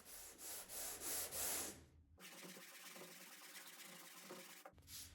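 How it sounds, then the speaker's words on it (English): Close, rhythmic rubbing of a sanding block with 220-grit paper over a wood finish in repeated back-and-forth strokes, then a quieter stretch of finer sanding before the strokes resume. "now we can sand the entire thing, and I'm just going to use a sanding block and some 220 grit"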